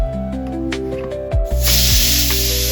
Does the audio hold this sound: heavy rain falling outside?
no